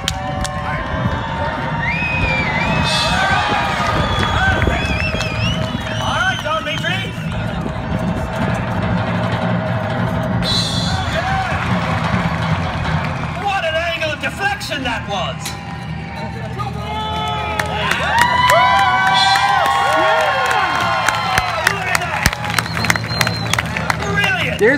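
A Renaissance faire crowd cheers and shouts for a knight at a jousting match, with a loud babble of voices, scattered clapping and rising whoops continuing throughout.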